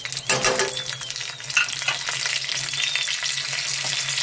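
Cumin, curry leaves and fenugreek seeds sizzling in hot tempering oil for idli chutney, a loud close crackle that bursts in, then settles into a steady hiss, with no voices.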